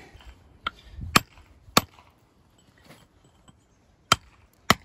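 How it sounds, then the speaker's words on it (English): Tracing chisel struck with a hammer along a large stone to split it, giving sharp isolated metallic clinks spaced irregularly with pauses, close and clear, no talking. "You can tell a little bit by the sound the rock's making as to how it's splitting"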